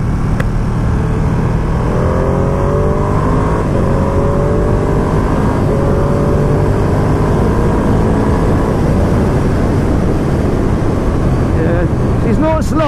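A 2020 Ducati Panigale V2 sport motorcycle engine revs steadily while riding, loud and close with wind rush throughout, pitch rising and falling as it climbs through the revs.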